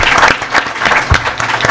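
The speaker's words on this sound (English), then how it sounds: "Let's give a great round of applause to Governor Jack Sperling." Applause at an NBA press conference, a modest room of hands clapping close and loud with distinct sharp claps standing out from the patter.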